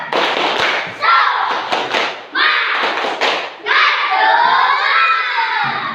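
Classroom of young Indonesian students performing the rhythmic tepuk semangat clapping chant, loud bursts of claps and shouted chanting in several phrases, close and energetic with a teacher's voice between.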